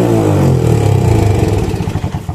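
A motorcycle engine with a faulty carburetor revs high on its own, a loud, close, steady roar that slips into a rougher, pulsing idle toward the end.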